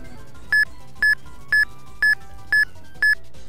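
Six regular, evenly spaced electronic countdown beeps from Eon Timer, used for Pokémon Ruby, Sapphire and Emerald RNG manipulation, each short and clear, standing alone over faint background game music.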